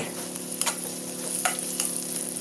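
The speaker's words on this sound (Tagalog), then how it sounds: "Ayan, mag-gisa na tayo. Maglagay na tayo ng hiniwang bawang. Maglagay na rin tayo ng hiniwang sibuyas." Sliced garlic and onion sauté in a pan for a pork chop dish, giving a steady low sizzle broken by a few sharp scraping stirs, close by with no voices.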